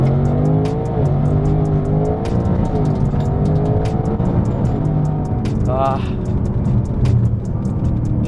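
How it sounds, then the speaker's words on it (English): A Ford Mustang on wide Michelin PS4S tires accelerates hard with wheelspin, its loud engine droning steadily through rising revs close by, with a brief tire squeal partway through. "Even if I have Michelin PS4S tires, wider setup, it still spins until like third gear"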